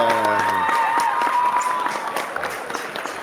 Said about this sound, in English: I think that deserves plenty of claps